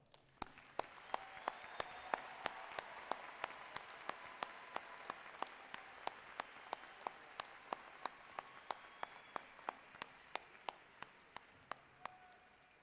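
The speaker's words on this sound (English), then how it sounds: "Please join me in applause." A commencement audience applauds steadily for several seconds, a broad wash of clapping from a large crowd with distinct individual claps standing out, heard from a distance and fairly faint.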